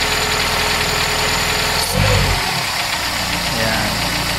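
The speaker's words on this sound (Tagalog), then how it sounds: "So para bumaba yung RPM, i-rev lang natin to." A car engine with an Aisan carburetor and automatic choke, already warm, is revved once in a short burst at close range before settling back to a steady idle.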